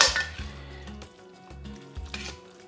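Pasta being tossed with grated Parmesan in a hot pan with broad beans and petit pois, giving a soft steady sizzle with irregular scraping and stirring scrapes and a few faint clinks of utensil against the pan.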